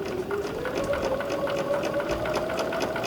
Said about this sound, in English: See how I can hear the machine being steady?